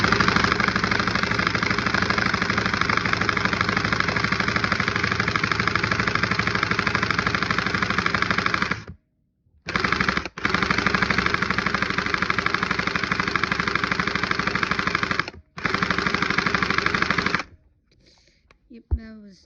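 An airsoft gun firing on full auto: a long, loud, steady stream of rapid mechanical cycling shots, broken by brief pauses into several bursts before stopping.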